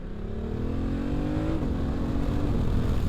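A BMW F900 GS twin-cylinder motorcycle engine drones steadily, its deep exhaust note rising in pitch and then settling into a smooth, throbbing rumble close by.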